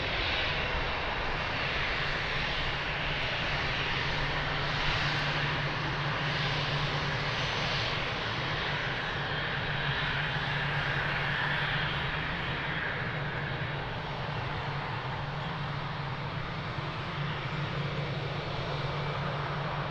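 Jet engines of a Boeing 777 airliner at Lisbon Airport roar in a steady, broad, continuous rumble, moderately distant and unbroken for the whole stretch.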